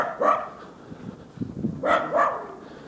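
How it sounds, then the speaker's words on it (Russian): A dog barking while scavenging in a cesspit in a residential district, a few short close barks separated by quiet rustling and faint whimpering sounds. "Собака залезла в выгребную яму и гавкой кушает что-то."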